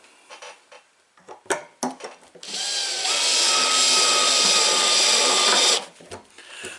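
A power driver runs screws into a plastic game feeder, starting with a few short clicks and bursts, then a steady, loud whir for a few seconds before stopping with more handling noise.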